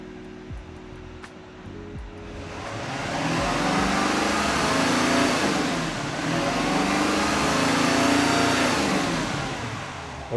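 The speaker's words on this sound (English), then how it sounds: "we've got the throttle in the wide open position, the fuel cutoff will automatically decrease the RPM" Gen 4 Duramax L5P diesel engine held at wide open throttle, revving up from idle into a loud, sustained roar that swells and holds for several seconds before easing slightly, with no talking.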